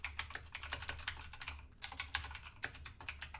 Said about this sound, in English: How do you guys like the sound of my new keyboard?